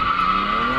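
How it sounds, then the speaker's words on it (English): Tires of an all-wheel-drive BMW 335xi squeal loudly in a steady, sustained screech as the car slides through a turn, engine droning underneath. "I'm gonna try to drift in this turn."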